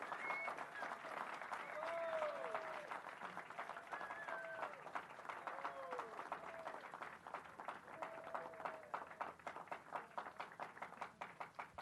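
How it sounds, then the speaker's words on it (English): A big round of applause in a city council meeting chamber, steady crowd clapping sustained throughout at fairly low level, with voices and chatter weaving through it. "Let's give them a big round of applause."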